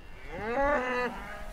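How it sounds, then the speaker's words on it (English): Scottish Highland cattle moo once in a long, drawn-out bellow that swells and fades, fairly close and standing out alone against faint outdoor background. "These are Scottish bovine, built for the Highlands."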